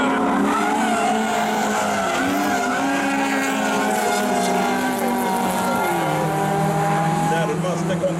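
Rallycross cars racing at Kinnekulle Ring in a Super 2150 heat, among them a BMW, engines screaming at high revs with shifting pitch and tyre squeal, loud and continuous under a commentator's voice.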